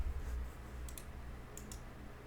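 A computer keyboard gives a handful of faint, crisp key clicks in two short pairs over a low, steady background hum.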